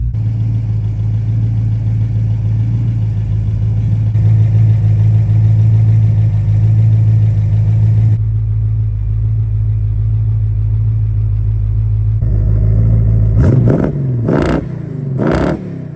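A 1968 Plymouth Barracuda with a 318 V8 holds a steady, close idle, then near the end blips its throttle in a few sharp revs that rise and fall back.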